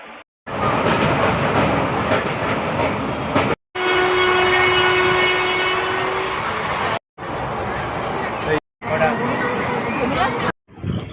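Passenger train on a Kolkata to Siliguri journey rumbling along the rails with a steady rhythmic clatter, a drawn-out horn tone at one point, and background chatter from passengers; cut by several short gaps.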